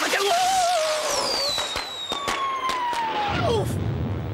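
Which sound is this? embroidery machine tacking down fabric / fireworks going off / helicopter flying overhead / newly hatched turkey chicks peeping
fireworks going off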